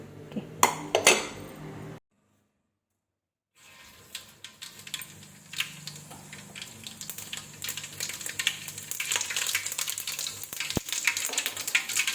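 Tempering spices sizzle in a pan in a home kitchen, a steady hiss that builds after a brief silence, mixed with clattering utensils and clinks of cutlery, with no one speaking.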